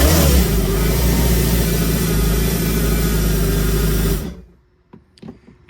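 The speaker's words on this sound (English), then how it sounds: "And we're running a 60 PSI at idle." A Kawasaki jet ski engine fitted with a high-flow fuel pump and filter idles with a loud, steady, close rumble, then cuts off abruptly, leaving near silence with a few faint knocks.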